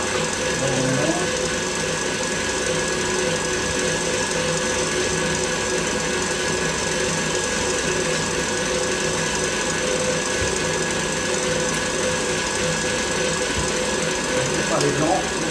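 An electric mixer blends marble cake batter as milk is added, a steady loud mechanical whir that holds constant, with a voice talking faintly beneath it.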